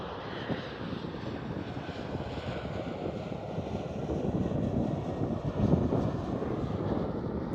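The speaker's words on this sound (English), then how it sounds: "KLM Cityhopper E190." A KLM Cityhopper Embraer E190 airliner passes at Amsterdam Schiphol, its engines a broad, steady roar that slowly grows louder toward the end, with a little wind noise on the microphone.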